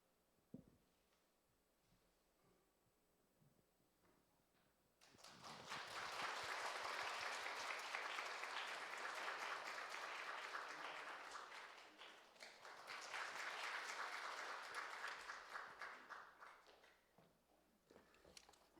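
A church congregation at a Sunday service bursts into warm sustained applause after a quiet moment, a broad wash of many hands clapping that dips briefly, swells again, then fades out.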